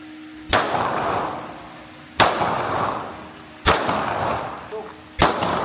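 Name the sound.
gunshots during firearms training drill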